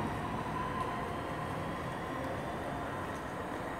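A Class 323 electric train, unit 323208, pulls away from Five Ways station toward Redditch, giving a steady, fairly quiet rumbling drone that holds throughout without voices.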